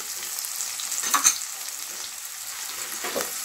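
Capsicum and other chopped vegetables sautéing in a pan give a steady close sizzle, with a few short scraping stirs breaking through the hiss.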